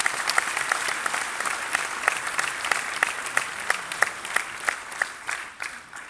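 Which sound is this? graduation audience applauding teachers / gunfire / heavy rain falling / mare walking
graduation audience applauding teachers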